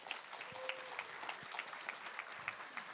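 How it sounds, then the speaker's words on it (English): Scattered, light applause from a small group at a school esports tech event, a few hands clapping unevenly for a couple of seconds. "Give him another round of applause."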